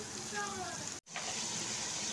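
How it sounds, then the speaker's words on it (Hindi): Water is poured into a cooking pot of washed, pre-soaked lentils for daal, making a steady, loud gushing splash that breaks off for a moment halfway through and then resumes. "अब इसमें मैं पानी ऐड करूँगी"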